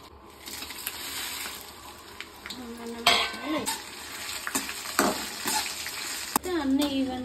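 Mustard seeds, coriander, fenugreek and cumin frying in a pan for gongura chutney, a steady close sizzle broken by stirring scrapes and clinks of a utensil against the pan.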